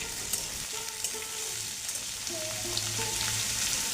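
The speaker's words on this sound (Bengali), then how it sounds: "প্রথমে সর্ষের তেল দিয়েছি একটু বেশি সর্ষের তেল দিয়েছি আর শুকনো লঙ্কা একটা ছিঁড়ে দিয়ে ফোড়ন দিয়েছি" A dry red chili torn into hot mustard oil for tempering gives a steady close sizzle with faint stirring, and no voices.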